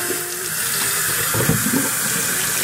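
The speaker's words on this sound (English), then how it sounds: "What I do first is just fill the bucket up. I have my little utility sink here, and we're going to pop that on." Water from a utility sink tap runs steadily into a bucket as it fills, a loud, close, continuous splashing rush with no talking.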